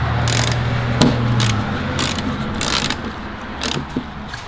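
A 10mm ratchet clicks in bursts while loosening strut bar bolts under the hood of a BMW M4, with close, repeated pawl ratcheting and a low steady hum underneath.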